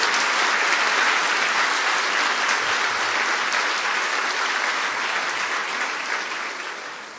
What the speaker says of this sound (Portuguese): dê um grande aplauso a Ele nesta noite